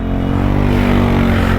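A Royal Enfield Himalayan 450 motorcycle being ridden uphill, its engine a loud, steady, close drone that holds even throughout with no pauses.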